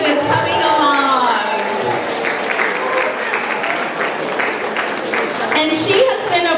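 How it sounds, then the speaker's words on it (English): An outdoor crowd at the Northern California Soy & Tofu Festival in San Francisco applauds the mascot Cutie Tofuti, a steady clapping bed running under a loud announcer's amplified voice. "If we could please have a big round of applause for Cutie Tofuti, who is coming along"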